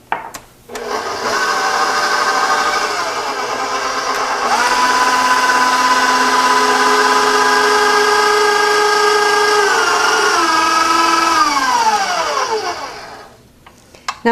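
Electric mixer beating divinity cookie batter after white sugar goes in, a steady whirring motor that shifts speed partway and winds down at the end, close and continuous with no talking.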